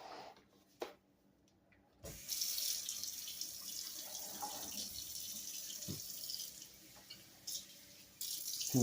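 Tap water runs into a container for mixing gypsum concrete, a steady rushing splash that starts after a short quiet stretch and a few knocks, continuing close and loud with brief pauses and restarts.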